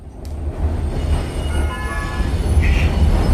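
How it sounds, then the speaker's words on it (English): A Prague tram on line 14 rolls through the city centre near Vodičkova Street and Wenceslas Square with a steady low rumble, a faint wheel squeal and a short high tone near the end. No voices are heard. "I took tram number 14 from the crossroads of Vodičkova Street and Václavské náměstí, right in the heart of Prague."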